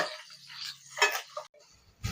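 Pumpkin and potato being stirred as they fry in a pan, soft scraping and clinking of a utensil against metal in short, faint bursts with quiet pauses between.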